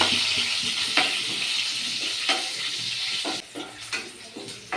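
Slit green chillies frying in a hot pan, a steady close sizzle with occasional stirring scrapes and pops, the hiss easing slightly near the end.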